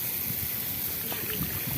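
Rainwater runs through a house roof gutter toward a drain hole, giving a steady close trickling and gurgling wash that stays even and unbroken.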